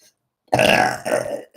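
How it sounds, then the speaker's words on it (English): A single long, loud burp rolls out after a short silence, swelling then easing into a second lower gurgle before a brief trailing sound; no talking over it. "Spirit makes me burp for those of you who are unaware."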